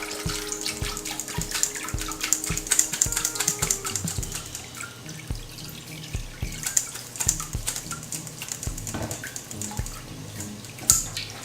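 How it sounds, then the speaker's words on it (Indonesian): Water drains and drips from freshly washed kangkung, a busy run of close, irregular splashes and drops with a brief trickle near the start and a louder splash at the end. "Tiriskan kangkung."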